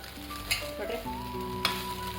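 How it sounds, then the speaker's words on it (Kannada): Jeera rice frying in butter in a pan, with a steady close sizzle broken by two sharp stirring scrapes and faint background tones. "ಈಗ ಫ್ರೈಡ್ ರೈಸ್ ಥರ ಫ್ರೈ ಮಾಡಬೇಕು."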